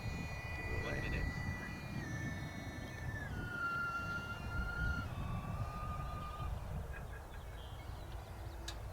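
A UMX A-10 Thunderbolt II 30mm EDF model jet flies overhead, its ducted-fan whine sliding down in pitch in steps over a steady wash of wind and background noise.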